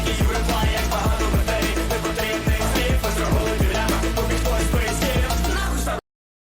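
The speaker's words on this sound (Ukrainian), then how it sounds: "Ось слухайте, ось тут у нас іде біт" A music beat plays loudly with punchy, evenly spaced kick hits under a dense instrumental layer, stopping abruptly near the end.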